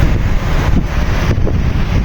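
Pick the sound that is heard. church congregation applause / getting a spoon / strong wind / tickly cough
strong wind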